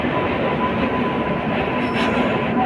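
A train rolls through Bhubaneswar railway station with a steady, loud rumble of wheels and carriages, a faint squeal riding on top, and no talking.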